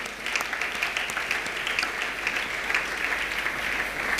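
A church congregation at a Sunday service breaks into sustained applause, a dense, even wash of clapping from many hands that continues evenly throughout.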